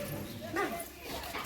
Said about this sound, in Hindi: ये है बुआ का कुत्ता।